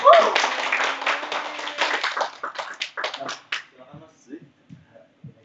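Clapping from participants at a marketing public speaking training session, a brief burst of hand claps mixed with talk that fades within a few seconds.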